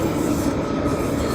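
A train rumbles steadily nearby, giving a loud, dense roar of rail noise that lasts throughout with no speech.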